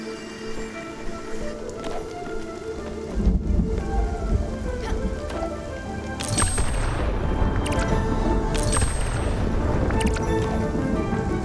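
Severe thunderstorm in the video game Spiritfarer, with steady rain hiss throughout and deep rumbling thunder swelling around the middle and again toward the end, plus a few brief game tones.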